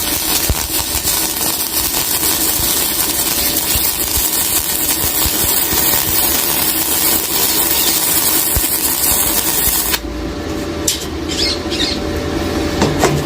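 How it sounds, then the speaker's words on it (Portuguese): An arc welder set to 50 amps runs a bead on thin sheet metal, producing a loud, continuous harsh crackling hiss that cuts out near the end, followed by a few faint clicks. "Pode ver que com 50 amperes a solda ficou mais baixa"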